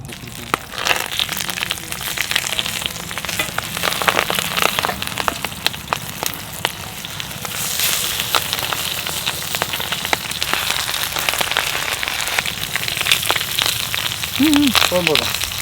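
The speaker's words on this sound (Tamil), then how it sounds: "அதுக்கு முன்னாடி எண்ணெய் ஊற்றிக்குவோம்" Cooking oil poured onto a hot dosa griddle while banana-leaf-wrapped Kerala-style fish fries, giving a continuous close sizzle studded with sharp pops and crackles, steady throughout with a brief voice near the end.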